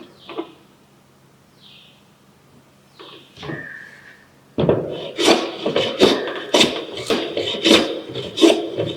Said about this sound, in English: planing should be done only till the bandsaw mark has gone